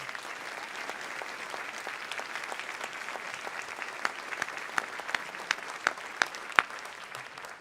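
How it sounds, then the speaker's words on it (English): An audience at a high school academic awards ceremony applauds its award winners with steady, moderately distant clapping that holds throughout, with a few sharper individual claps standing out near the end. "Please join me in a round of applause congratulating each of our award winners."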